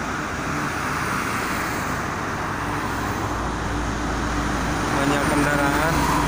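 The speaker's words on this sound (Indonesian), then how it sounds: "Banyak kendaraan yang berangkat kerja." Steady broadband roar of traffic on the Jakarta-Cikampek toll road near Kosambi–Karawang, cars and heavier vehicles passing continuously close by, a constant wash of tyre and engine noise with no voices standing out.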